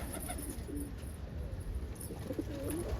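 Domestic pigeons, Indian fantails and almonds, coo in short low rolling phrases, a few repeated calls close by over a steady background hiss.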